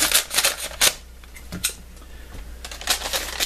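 Scissors slice open a plastic bargain bag of CDs, close by, in a few quick bursts of snipping and crinkling separated by short quiet gaps.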